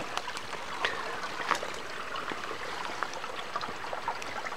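A forest stream flows steadily at a water source, a constant broadband rush of water with small bright trickles and gurgles, close and moderately loud throughout.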